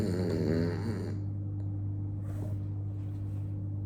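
A cartoon character snores loudly and steadily, a deep droning rumble after an opening breathy snort, with no talk over it.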